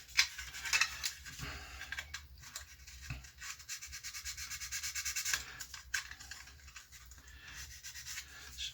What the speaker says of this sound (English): One thing I hate about aircraft is this filling and rubbing, as I've already said.